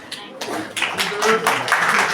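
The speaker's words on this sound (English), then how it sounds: "At least a rhythmic clapping." An audience at the close of a class claps in uneven bursts, fairly close, mixed with a speaking voice.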